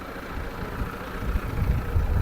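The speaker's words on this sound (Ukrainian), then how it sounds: "як бачите, трактор Масей" A Massey Ferguson tractor idles nearby on a farm, a low steady engine rumble that grows slightly louder and rougher toward the end, with no talk over it.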